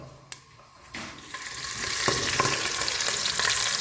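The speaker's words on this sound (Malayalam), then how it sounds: "ഇനി ബാക്കി ഉലുവ ഇട്ടതിന് ശേഷം നമുക്ക് ഉള്ളി വാട്ടിയെടുക്കാം." Fenugreek seeds and onions sauté in oil inside a pressure cooker for a home-style beef curry; quiet clicks give way to a rising, close sizzle with scattered stirring taps.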